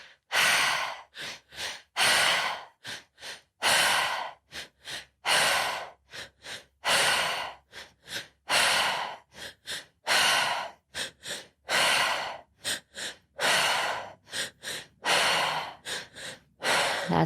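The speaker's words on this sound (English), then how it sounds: "Just keep the breath circulating, breathing in the energy, in the air, powerfully letting it out." Deep breathing exercise with strong, regular breaths drawn in and pushed out, close and loud, in bursts of varying length separated by short pauses, no talking.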